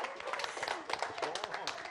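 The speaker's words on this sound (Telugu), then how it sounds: "ఒక్కసారి గట్టిగా చప్పట్లు." Audience clapping and applause at a film pre-release event, a steady dense patter of many hands throughout, with voices mixed into the crowd noise.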